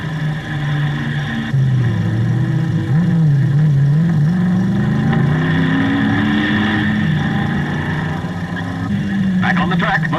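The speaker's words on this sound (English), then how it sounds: "Back on the track, McPhee fights to regain lost ground." A 1968 touring race car races at the Bathurst track, its engine droning loudly with wavering pitch as it shifts and accelerates, under commentary talk.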